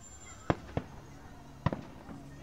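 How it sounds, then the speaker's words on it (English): Fourth of July fireworks explode in a string of sharp booms, two close together, then a pause and two or three more with fainter echoing pops, heard at moderate distance against a steady background hiss. "also enjoy the fireworks"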